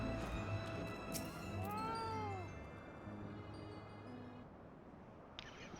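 A cat in Final Fantasy XIV meows in a few drawn-out, wavering cries against a steady hum of game music and ambience.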